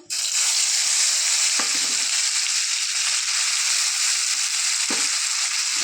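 Gravy tipped into a hot pan for a restaurant-style green pea curry sets off a loud, continuous close sizzle, with a couple of brief knocks from the pan along the way.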